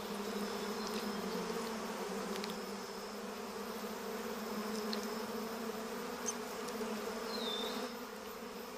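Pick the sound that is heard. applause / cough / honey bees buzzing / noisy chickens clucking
honey bees buzzing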